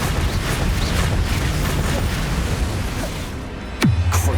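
A Confringo spell explodes in the Hogwarts Legacy video game, one sharp burst with a deep falling boom near the end, following a dense rumble of game effects.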